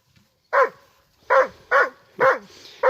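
Several Akbaş puppies at a highland pasture bark in four loud, close bursts spread across a few seconds, with short gaps between barks.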